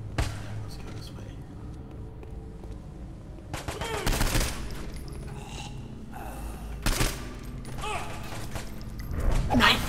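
Bombing and gunfire strike a compound in Saints Row 4, with rapid bursts of automatic fire, sharp explosive cracks and mechanical clatter, a voice talking under the continuous noisy battle, and louder blasts near the end.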